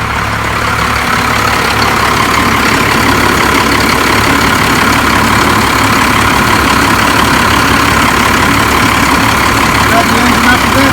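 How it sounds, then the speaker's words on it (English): A 1st Gen Cummins diesel engine runs steadily at raised idle, a loud, constant low rumble close to the microphone that holds throughout without change. "Got the engine up a bit."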